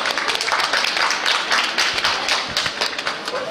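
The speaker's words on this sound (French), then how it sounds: "Sous vos applaudissements" An audience at a regional dance competition in Brittany applauds as a dancer is welcomed. The clapping is dense and steady and fills the whole stretch at a fairly loud, close level.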